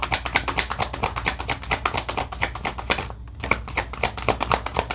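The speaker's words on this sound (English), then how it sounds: "Let's shuffle and see what card you get." A deck of tarot cards being shuffled by hand, a rapid steady run of crisp riffling taps with one brief pause partway through, close up and without speech.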